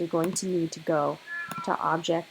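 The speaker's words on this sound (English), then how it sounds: "sorry if you can hear the cat screaming in the background" A cat meows loudly and repeatedly in the background, its drawn-out, wailing cries rising and falling while a person talks over it close to the microphone.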